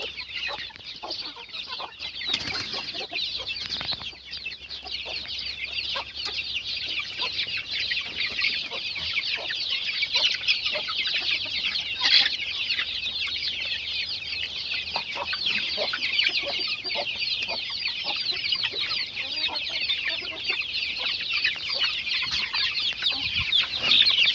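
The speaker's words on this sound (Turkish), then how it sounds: "kurk da buradan civcivleri kovalıyor." A broody hen clucks repeatedly as she chases young chicks outdoors, with steady chick peeping throughout and occasional short hen calls at close range.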